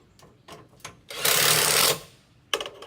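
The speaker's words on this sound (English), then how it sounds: "we're going to have to finish screwing in this hanger" Power driver sinking a screw into a gutter hanger at a corner miter, a close, loud buzzing whir lasting under a second between scattered clicks and knocks.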